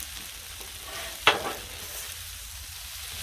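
Shrimp fried rice sizzles steadily on a Blackstone griddle while two spatulas stir it, with one sharp metallic scrape standing out against the constant frying hiss.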